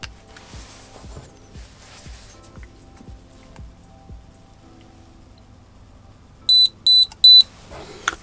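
Three crisp, high electronic beeps from an Acetech Blaster airsoft tracer unit ring out in quick, even succession near the end, following quiet rhythmic ticking.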